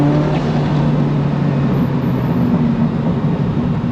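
A Ferrari F40's turbocharged engine drones loud and steady from inside the cabin with the windows open, a constant low throbbing hum with slight rises in pitch.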